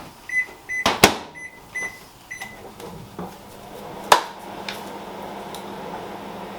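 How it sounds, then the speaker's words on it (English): A microwave oven heating an egg in a mug of water: several short keypad beeps and door clicks, then a low steady hum of the oven running, fairly close. "and then chuck it in the microwave for a minute."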